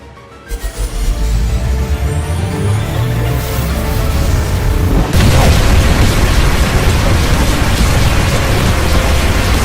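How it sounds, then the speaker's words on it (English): An explosion in an animated adventure builds into a loud, sustained roaring rumble, with a sharper burst about halfway through that keeps blasting to the end. "this explosion is going to get pretty loud"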